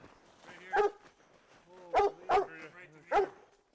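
Several hunting dogs on a cougar hunt bark in short bursts, four loud close barks spread over a few seconds, with a voice calling to them between.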